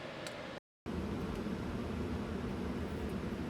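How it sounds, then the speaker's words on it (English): Steady climate control fan blowing inside a warm 2025 Lexus RX 350h F-Sport cabin, a soft even whoosh of air with a brief dropout near the start, otherwise constant and fairly faint. "sorry about the fan noise, it's going to be on for a bit because it's quite warm."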